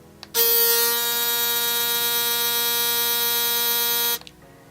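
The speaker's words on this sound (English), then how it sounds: "Now if you just wanted to have a listen to how the sound is on the trimmer" Kemei T-Antrix electric trimmer switched on and running alone for about four seconds, a loud, steady high-pitched motor buzz with a strong whine that starts and stops abruptly.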